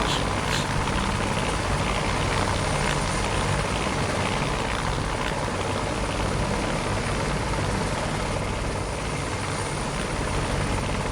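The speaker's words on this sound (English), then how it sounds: "Quite a quick little helicopter as well." Steady, loud rotor thump and turbine whine from a Bell 430 helicopter flying close by, unbroken for the full length with no talking.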